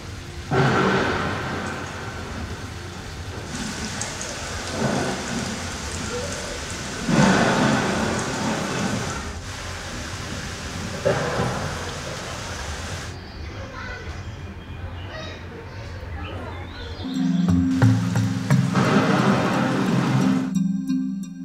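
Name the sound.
simulated rainfall on a nature center erosion diorama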